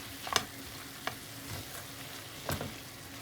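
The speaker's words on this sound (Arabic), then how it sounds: "بعد ما حطيتهم اكيد اخلط المكونات هاي سوية" Lasagna meat sauce ingredients, with hand-crushed fresh oregano, being stirred together in a pan, soft scraping strokes over a faint sizzle, a few sharper clicks of the spoon, quiet and close with no talking.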